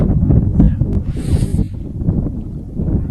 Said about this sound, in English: Cold and windy here